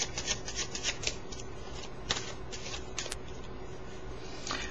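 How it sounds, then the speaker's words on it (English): A deck of blue-backed playing cards being shuffled close up: a quick run of riffling, rubbing card flutters with a few sharper snaps. No one speaks. "Now to start, we'll give the deck a shuffle, just as always, like this."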